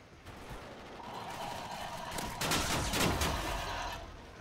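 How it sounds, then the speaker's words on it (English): Video game gunfire in a Call of Duty Ghosts team deathmatch, a dense continuous burst of rapid shots and crackling fire that swells louder midway, with no talk over it. "They're shooting at me."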